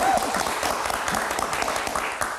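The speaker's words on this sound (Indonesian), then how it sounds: "Tepuk tangan dulu dong." Studio audience applause during an Indonesian live Lebaran variety show, a steady wash of clapping with a brief voice at the start and a few faint vocal sounds underneath.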